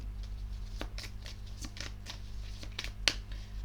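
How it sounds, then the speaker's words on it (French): A tarot card handled and covered on a table: soft papery slides and taps in an irregular series, close and quiet, with one sharper snap near the end and no talking. "Je vais recouvrir la carte."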